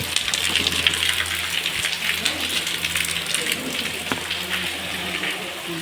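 The flooded Godavari river at Gunj (Khu) pours past in a steady, dense rushing roar that holds evenly throughout, with faint voices underneath.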